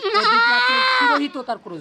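A goat on a commercial goat farm lets out a loud, drawn-out, wavering bleat, close by, followed by a few short voiced sounds.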